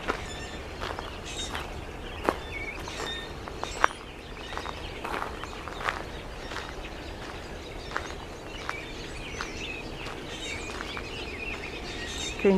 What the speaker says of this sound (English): the birds are singing everywhere.